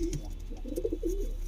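A pigeon in a loft gives a short series of soft, low, throaty coos, close and fairly quiet, with no talking.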